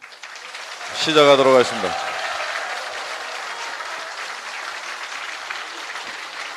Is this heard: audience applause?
yes